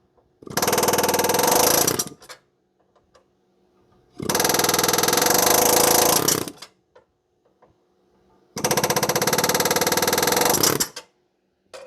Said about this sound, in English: I'm just going to use the air hammer like this to go in a counterclockwise fashion